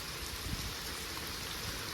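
Heavy rain falls in the village of Nilakha as a dense, even hiss that continues unbroken and fairly faint, with no voices.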